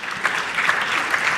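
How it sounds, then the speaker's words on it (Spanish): A legislative session audience gives a round of applause, steady crisp clapping from many hands with a few louder claps standing out, sustained and close. "la despedimos con un aplauso"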